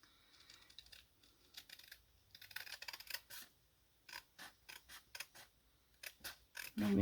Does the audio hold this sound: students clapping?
no